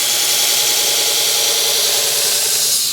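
Steady, loud, harsh grinding as a knife blade is pushed through a jig against a grinder, a continuous abrasive roar with no pauses and no talking.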